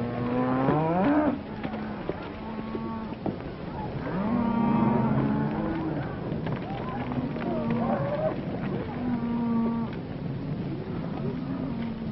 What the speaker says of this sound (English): Hey, Joe, get those cattle watered down right away.